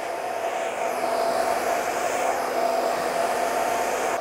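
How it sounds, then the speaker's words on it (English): A hair dryer blows steadily and loudly, a constant airy whoosh with a faint whine on top, no talking. "Turn the hair dryer around"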